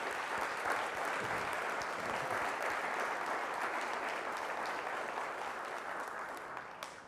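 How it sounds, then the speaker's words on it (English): An audience applauds steadily for the families of a company's co-founders at a launch event, a dense, even wash of clapping that holds for several seconds and thins slightly at the end. "Please, a big round of applause to my co-founders' families."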